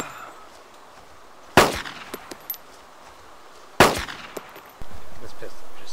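Two sharp, loud starting-pistol shots from the DayZ video game crack about two seconds apart, each with a short decay, followed by faint clicks and a steady background hum at the end.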